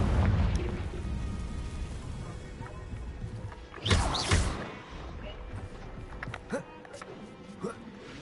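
A Confringo blasting spell from Hogwarts Legacy bursts midway with a short, loud crackling blast over a busy game-music bed, followed by a few fainter pops.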